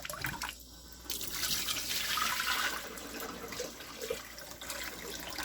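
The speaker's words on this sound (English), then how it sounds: "I'm going to wash it until the water runs completely clear, using always cold water" Cold tap water runs steadily while grains are swished and rinsed for chicken soup, a continuous splashing flow with a brief gurgle near the start.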